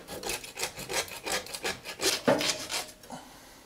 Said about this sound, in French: et ensuite on peut y aller à la scie.